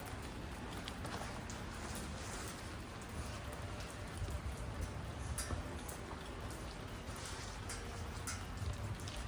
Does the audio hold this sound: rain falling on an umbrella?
yes